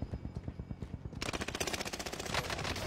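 Automatic gunfire rattles in Apex Legends, first a quick series of distinct shots, then a denser, louder burst of rapid fire that continues to the end.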